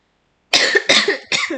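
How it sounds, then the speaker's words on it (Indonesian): Three quick, harsh coughs in a row, close and loud, after a moment of silence. "Mohon maaf batuk."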